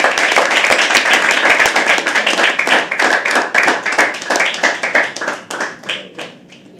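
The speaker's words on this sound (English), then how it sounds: "Keep clapping." An audience at a live poetry open mic claps steadily and loudly, dense applause that gradually thins and fades toward the end.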